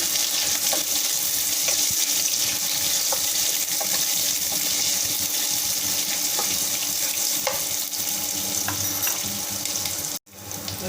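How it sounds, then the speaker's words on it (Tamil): Chopped onions sizzling in a hot frying pan with ginger-garlic paste for jackfruit biryani, a loud, dense, continuous hiss close up with faint stirring clicks, no voices, and an abrupt brief cut near the end. "நான் ரெண்டு வெங்காயம் கட் பண்ணி வச்சுருக்கேன் போடுறேன்"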